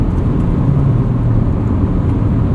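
Engine of a 1999 Honda Civic Si revving hard toward 6,000 RPM as VTEC engages, a steady, loud low drone heard from inside the car with no talking.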